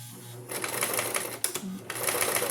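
A sewing machine runs a straight stitch through fabric for a face mask, whirring in short bursts with a brief pause midway, close and fairly loud.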